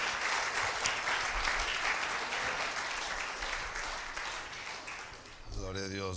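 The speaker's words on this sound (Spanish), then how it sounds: "un aplauso de afecto" A church congregation claps warmly to welcome its leader to the pulpit, steady full-room applause lasting several seconds before fading as a voice begins at the end.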